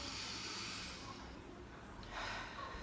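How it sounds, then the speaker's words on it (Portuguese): Slow, deliberate breathing in and out through the nose, soft and close, with a steady airy hiss that swells and fades across a few seconds and no talking. "Solto pelo nariz, pela boca."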